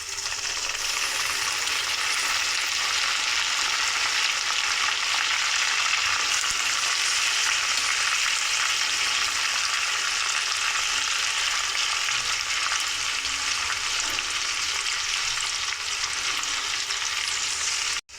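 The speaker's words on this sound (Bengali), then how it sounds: "এখন আমি মাংসটাকে দিয়ে দেব। তো আমি একটা চামচ দিয়ে তুলে দেব" Mutton pieces sizzle loudly and continuously in hot mustard oil in a pan, a dense, even frying hiss with no talking.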